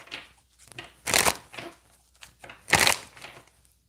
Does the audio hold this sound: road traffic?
no